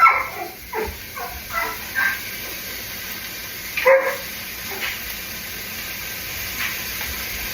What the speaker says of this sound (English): as my dog barks